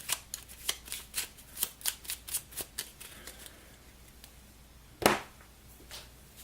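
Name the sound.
shuffling a deck of cards in The Big Book of Madness board game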